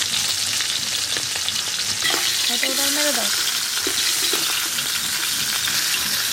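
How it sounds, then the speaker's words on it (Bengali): Hilsa fish heads fry in oil with a loud, continuous close sizzle, while a brief spoken remark passes over the cooking noise. "মাছের মাথাগুলো ভাজা হয়ে গেল।"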